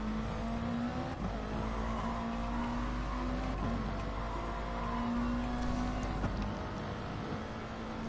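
Porsche and Subaru race cars running on a track, with a steady sustained engine drone and a constant tonal whine throughout, near and loud, with no one speaking.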